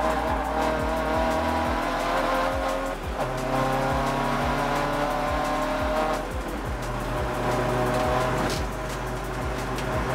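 A BMW and an Audi TT race on a track during a club enduro at Croft, with a loud, sustained engine roar, brief tire squeals and cars passing, heard from the trackside.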